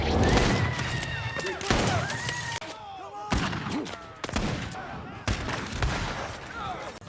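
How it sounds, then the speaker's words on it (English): Bursts of gunfire crack out repeatedly amid chaotic noise, with shouting voices and sharp impacts mixed in, loud and close. "Soon, heavy gunfire breaks out."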